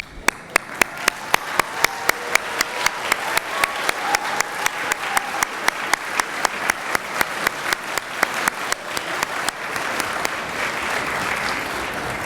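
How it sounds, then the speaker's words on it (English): Graduating biology students standing for applause at a university department recognition ceremony: sustained crowd clapping with a strong, regular rhythmic beat that fades into looser applause near the end, loud and close. "be recognized by a round of applause"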